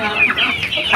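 Several chickens cluck steadily in a coop where young hens are kept, the calls close and fairly loud, overlapping in a busy, continuous chatter with no talking.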